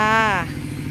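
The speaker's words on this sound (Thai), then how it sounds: "รถไถเดินตาม" A two-wheeled walking tractor engine running close by, a loud buzzing drone that slides down in pitch and quickly drops away, with voices in the background.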